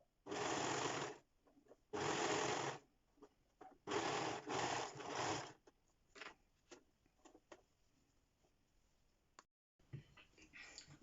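A domestic sewing machine stitches around a sweatshirt sleeve in several quick bursts of rapid needle chatter separated by pauses, followed by faint handling clicks and taps, close and fairly quiet.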